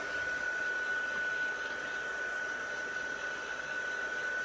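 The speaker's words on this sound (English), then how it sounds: "keep moving your heat tool around until you see kind of it start to melt and become really shiny" Heat embossing tool blowing hot air over embossing powder on a craft project, a steady, continuous whooshing hiss like a small hair dryer, sustained and even throughout with no talking.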